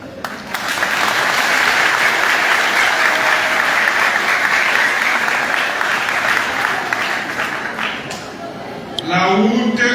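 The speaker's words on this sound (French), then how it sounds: "un chaud d'applaudissements" Church congregation at St Paul parish in Torbeck giving warm applause, a dense, loud, sustained wash of clapping that fades near the end as a voice begins speaking.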